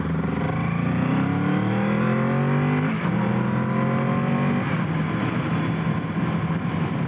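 A Kawasaki Z650 motorcycle pulls hard through the gears, its engine note climbing in pitch with each gear, a brief dip at the shifts, then rising again, loud and close with wind rush and no talk.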